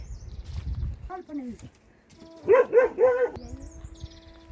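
A guard dog kept at a mountain meadow hut barks a quick burst of three or four close barks after people talk nearby.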